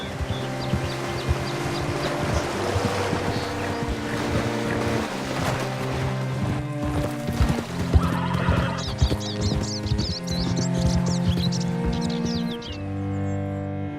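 A horse whinnies and hooves clop in Red Dead Redemption 2, layered over a busy game soundscape with music-like tones, water-like wash and chirping birds toward the end; no one speaks.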